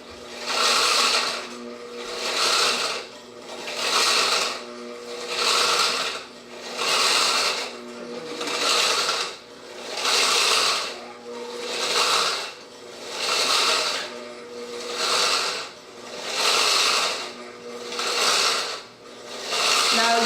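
An electric grinder grinding spices whirs in steady, repeating pulses, each burst rising and falling about every two seconds, with a gritty rasping texture.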